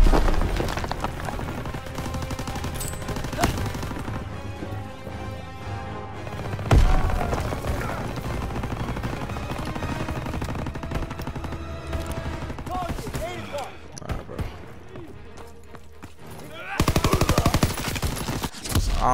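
Gunfire in the Call of Duty WW2 campaign mission Collateral Damage: bursts of machine-gun fire and scattered shots over a dense battle soundscape, with a heavy boom near the middle and a louder flurry at the end.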